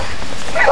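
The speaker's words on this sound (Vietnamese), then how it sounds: "Chó kìa." A dog gives a short, close bark or yip outdoors on a breezy hillside, one quick burst near the end under light background noise.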